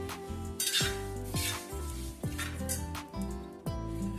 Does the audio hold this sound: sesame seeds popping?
yes